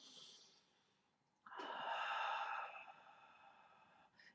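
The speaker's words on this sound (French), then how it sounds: "Vous allez donc inspirer par le nez" One slow breath is drawn in through the nose. It is soft and airy, swells for about a second, then fades, with no talking.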